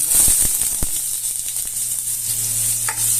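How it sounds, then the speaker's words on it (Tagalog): Ginger frying in hot cooking oil in a pan gives a loud, continuous bright sizzle with crackling pops and a few clanks of stirring, heard alone without talk. "pag mainit na yung ating oil, pwede na natin ilagay yung ating luya"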